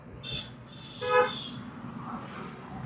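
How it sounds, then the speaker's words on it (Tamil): A short car horn toot rings out once near the middle, with a faint earlier beep, over low road rumble while driving in city traffic. "horn horn"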